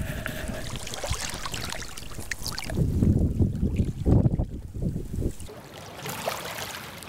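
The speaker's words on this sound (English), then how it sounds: "I can pick up some of the wave." Ocean waves picked up by a listening device on an extra loud setting, a rough, rushing wash of surf swelling in the middle and easing off, close and noisy with wind-like hiss.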